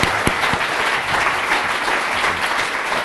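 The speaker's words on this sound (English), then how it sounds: "I'll let you get applause." An audience at a film screening Q&A bursts into steady, full applause, a dense wash of clapping that holds evenly throughout with no one speaking over it.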